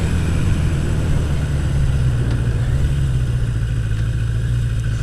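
A motorcycle engine idles high at about 1800 RPM on a hot day, a steady low mid-pitched drone with no breaks, close and fairly loud throughout.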